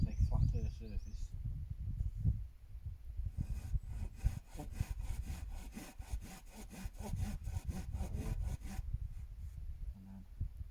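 Handsaw notching a wooden pole for the roof frame of a bushcraft debris shelter, with rapid rhythmic rasping strokes close by, preceded by brief talk and faint birdsong outdoors.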